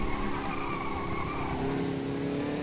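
Race car in the rFactor2 sim racing game sliding through a corner, a steady loud engine drone with tyre scrub held throughout, with no other sounds over it.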